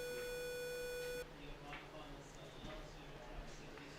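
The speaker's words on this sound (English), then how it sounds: "All right, heard that buzzer" Buzzer at a show jumping competition, a loud sustained electronic tone lasting just over a second and then cutting off, followed by faint arena ambience and distant hoof and crowd sounds.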